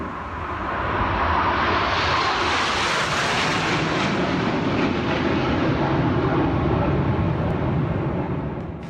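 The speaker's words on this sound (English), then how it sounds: "That's the sound of the Royal Air Force Aerobatic Team, otherwise known as the Red Arrows." Red Arrows aerobatic team Hawk jets of the Royal Air Force pass overhead, a loud continuous roar of jet engines swelling in and holding steady for several seconds before easing off slightly.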